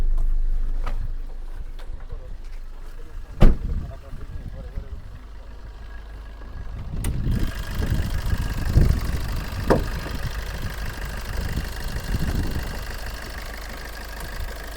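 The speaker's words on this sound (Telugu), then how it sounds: "వెహికల్ని స్టార్ట్ చేసి చూపిస్తాను." A 2015 Maruti Swift Dzire gives a few clicks and thumps, then its engine catches partway through and settles into a steady idle with occasional louder revs and knocks.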